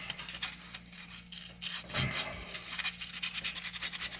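Super fine sandpaper rubbing on a radiator part during a Jeep ZJ 4.0L radiator upgrade, a close, continuous scratchy rasp with short back-and-forth strokes over a faint background hum.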